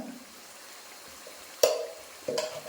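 Asafoetida and turmeric frying in sesame oil for a tomato pickle, a soft steady sizzle with two sharper stirring clatters near the end, close and fairly quiet, with no talk.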